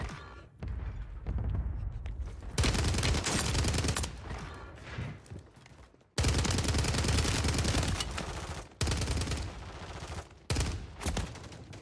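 Rapid automatic gunfire in the Warzone 3 video game comes as loud, dense bursts of shots separated by brief gaps, close and punchy, with heavy thuds mixed in.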